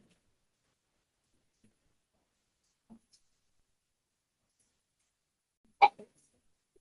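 Single short sneeze bursting out in a quiet room, brief and fairly close, followed by a tiny after-sound, with faint scattered ticks elsewhere and no talk during it.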